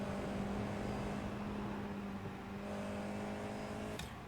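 A Formula 4 race car on the Canadian Tire Motorsport Park circuit gives a continuous, loud engine drone whose pitch dips and rises as it brakes and accelerates, heard from on board without talk.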